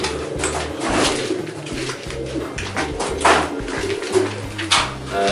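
Lovebirds in a breeding cage give repeated chirps and calls over a steady low hum, close and moderately loud, with a few sharper clicks scattered throughout.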